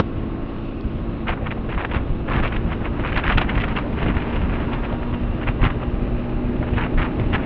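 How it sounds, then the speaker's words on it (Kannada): A Hero XPulse 210 motorcycle rides through monsoon rain in Udupi, with a constant low engine drone blended with heavy wind rush and rain noise buffeting the microphone. "ಇವಾಗ ನಾನು ನನ್ನ ಕಸಿನ್ ಗಾಡಿ ಓಡಿಸ್ತಾ ಇದ್ದೀನಿ, ಹೀರೋ ಎಕ್ಸ್ಪಲ್ಸ್ 210"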